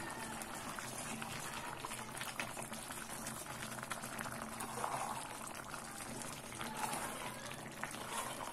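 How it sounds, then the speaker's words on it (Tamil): Rice cooks in country chicken biryani gravy, bubbling and simmering steadily in the pot, a continuous close boiling texture with no pauses and no voices. "கொஞ்ச நேரம் அந்த கிரேவில அரிசி நல்லா வேகட்டுங்க"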